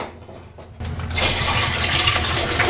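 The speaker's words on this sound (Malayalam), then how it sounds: "പായസത്തിലുള്ള പാലിങ്ങനെ ഒഴിച്ച് ഇങ്ങനെ ഒന്ന് ചൂടായി വരുന്നുണ്ട് കേട്ടോ" Milk pours steadily into a cooking pot for payasam, a sweet milk pudding, building from a soft trickle into a loud, continuous rushing stream with no talk.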